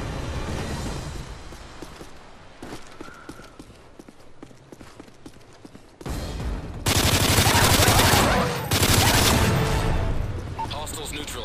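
A sentry gun fires in Modern Warfare 3 on the Seatown map in survival mode, starting as rapid dense chatter and swelling into loud continuous automatic fire. Gameplay noise and voices are heard alongside it.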